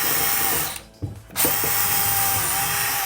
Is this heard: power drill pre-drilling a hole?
yes